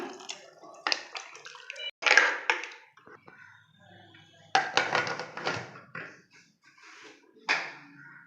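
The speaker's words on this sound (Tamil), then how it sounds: "தண்ணி ஊற்றிக்கலாம் மிக்சியில் அரைச்சி ஊற்றிக்கலாம்" Water is poured into a pressure cooker while cooking mochai (field bean) kuzhambu. It comes as several short, close splashing pours separated by pauses, with brief clinks of the pot.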